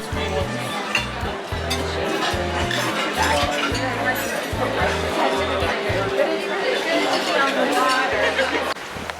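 In a cruise ship dining room, a busy crowd chatters while dishes and cutlery clink, with background music playing under the steady murmur of many voices.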